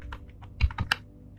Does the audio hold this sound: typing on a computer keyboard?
yes